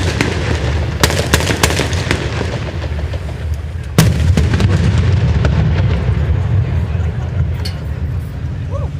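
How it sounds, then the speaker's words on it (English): Unmanned diversionary explosion at a US Special Operations Command capabilities demonstration: repeated sharp blasts and cracks over a continuous low rumble, with one especially strong boom midway, loud and outdoors. "It seems as though the unmanned diversionary explosion was successful."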